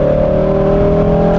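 A loud, close supercar engine revs steadily at high pitch to about 6,000 RPM, a sustained droning roar with no pauses.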